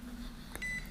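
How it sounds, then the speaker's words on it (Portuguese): A fishing fish-finder app gives a single short electronic beep to signal a fish below, faint against quiet background hiss. "E toda vez que surge um peixe, ele dá um bip"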